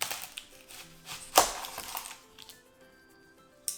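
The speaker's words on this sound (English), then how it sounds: "I'm gonna cut maybe a third of it." A knife chops an onion into big chunks on a board, giving a few close, sharp irregular thuds and crunchy cuts with quieter handling clicks between.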